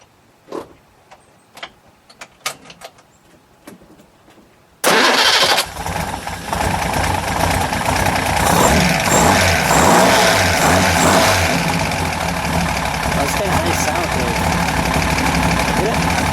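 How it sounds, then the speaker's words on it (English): A few light clicks and fiddling sounds, then a 1954 Arnolt-Bristol Bolide's six-cylinder, three-carburetor engine cranks and catches, settling into a loud, steady, slightly uneven idle that runs on. "3 carburetors, 6 cylinders. Right. Let's hear it fire up."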